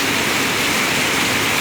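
Heavy rain pours down at Anakkal near Kanjirappally, a dense, steady hiss that fills the whole moment evenly, loud and close, with no voices.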